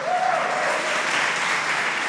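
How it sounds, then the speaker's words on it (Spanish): A church congregation bursts into loud, sustained clapping during a sermon, a dense wash of many hands. A voice calls out briefly at the start. "Yo quiero, aleluya, dele un aplauso al Señor"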